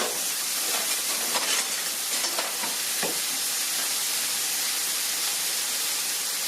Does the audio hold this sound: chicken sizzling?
yes